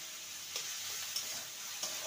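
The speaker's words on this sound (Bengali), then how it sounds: "মশলাটাকে নেড়ে নেব।" Onion, ginger, garlic and chopped tomato masala with a little salt being stirred in a pan, a steady low sizzle with three soft spatula scrapes spaced evenly, close and quiet, no voices.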